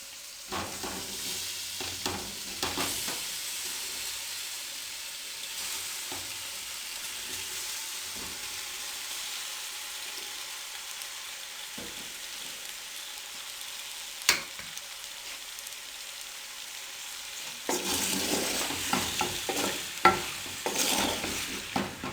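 Boiled macaroni is stirred and fried in a pan, with a soft sizzle and intermittent spatula scrapes for a long stretch, growing louder and busier near the end.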